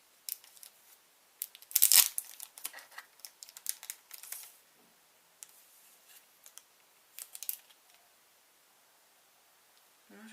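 A small package from a monthly beauty subscription box gets opened, with scattered crinkling, tearing and snipping bursts of paper and plastic, some sharp and close, separated by quiet pauses.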